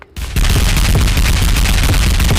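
Dense, continuous gunfire from the FAUG mobile shooter game begins after a brief quiet start, with rapid overlapping shots and booms holding loud and steady to the end.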